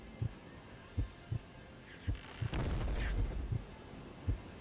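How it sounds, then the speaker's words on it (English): A loud, sustained explosion in Daikatana rumbles for about a second amid a series of sharp, evenly spaced thumps, like repeated gunfire. "What was the explosion?"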